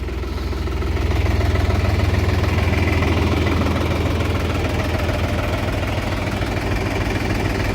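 A Solis RX50 mini tractor engine idles steadily nearby, a loud low rumbling chug with constant knocking vibration and no pauses.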